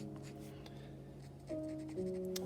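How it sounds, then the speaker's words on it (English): A pen scratches across paper while drawing a large poster, soft intermittent strokes heard faintly beneath quiet lo-fi music with sustained tones. "You could hear the scratches from the pen on the paper."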